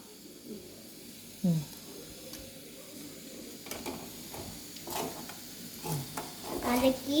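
Onions sautéing to golden in a pan, a faint low sizzle with scattered scraping and stirring clicks, a few louder clanks near the end.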